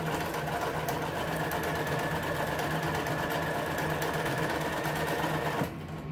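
Close, steady whirring of a sewing machine stitching a cover for a window seat cushion, running continuously for several seconds and then stopping abruptly near the end.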